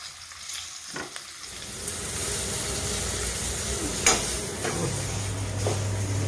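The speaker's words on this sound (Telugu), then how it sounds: "ఇవన్నీ ఇలాగే వేయించుకోవాలి." Stuffed green chillies filled with cumin powder and salt fry in hot oil, giving a steady, close sizzle with a few stirring knocks and scrapes.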